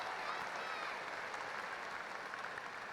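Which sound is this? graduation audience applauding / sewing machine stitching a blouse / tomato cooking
graduation audience applauding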